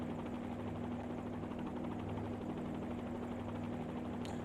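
Helicopter in a flight simulator game approaching an airstrip, a steady, even rotor and engine drone that holds throughout without letup.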